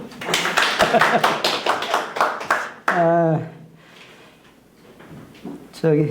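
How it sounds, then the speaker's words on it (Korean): Lecture audience at a peace academy session claps briefly for a couple of seconds, then someone speaks to the room. "다시 한번 박수 치시죠."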